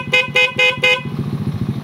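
Four short, evenly spaced honks from a motorcycle horn, close and loud, followed by the bike's engine idling on its own.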